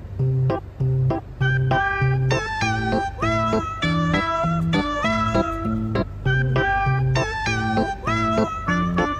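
A Scottish Fold mother cat meows over and over, loud and near, in a rapid string of insistent, tonal calls with barely a pause between them.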